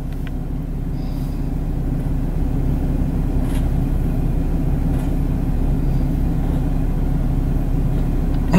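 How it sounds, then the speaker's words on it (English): A car's engine and road noise make a steady low rumble throughout, with an odd mechanical droning that holds at a constant level and no talking over it. "I don't know if you guys can hear that, but my car is making weird noises."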